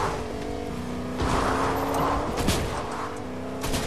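A car driving in the Fortnite video game, its steady engine hum swelling as it speeds up and passes, fairly quiet and mostly alone.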